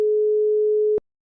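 A single steady electronic phone tone sounds for about one second at a constant pitch, loud and clean, then cuts off into silence.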